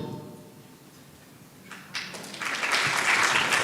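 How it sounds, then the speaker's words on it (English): A conference panel audience begins clapping, starting sparse and swelling into steady applause that grows louder toward the end. "Please start clapping if you are on Facebook."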